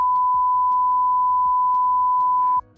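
A single continuous high-pitched censor beep holds steady for over two seconds, with faint muffled talk underneath before it cuts off.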